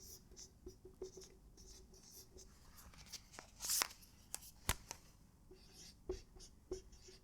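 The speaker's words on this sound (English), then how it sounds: "Let's write it down." Handwriting during a math lecture on Laplace transforms, with soft close scratching pen strokes in short bursts and small taps, plus a brief rustle in the middle, all fairly quiet with no talking.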